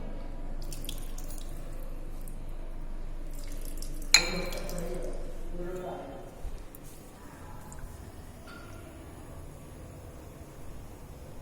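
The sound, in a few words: washing crude benzimidazole in Buchner funnel with water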